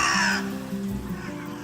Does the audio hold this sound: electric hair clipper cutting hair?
no